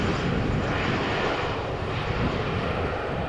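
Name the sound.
Embraer 175 jet arriving from Berlin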